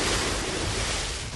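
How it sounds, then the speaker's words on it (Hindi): The fast-flowing Makra River, coming down from Bhutan, makes a loud, continuous rushing roar of turbulent water with no talking. "भूटान से आने वाली माकरा नदी में पानी का बहाव इतना तेज है"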